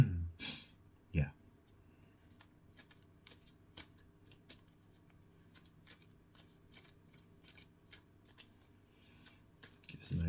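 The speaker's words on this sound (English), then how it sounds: "Give us a nice shuffle." Tarot cards shuffled by hand in a quiet room, a soft papery riffle and flutter of rapid small clicks running steadily through, with a couple of louder bumps and breaths at the start and end.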